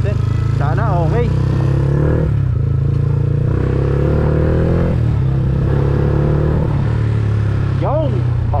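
A Yamaha Sniper 150 motorcycle rides along with a steady low engine drone and occasional revs, recorded close on a GoPro Hero 10 with a sponge wind muffler, while a rider speaks over it.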